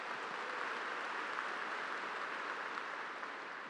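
Convocation audience clapping, a dense even wash of many hands applauding at a distance, steady throughout without voices.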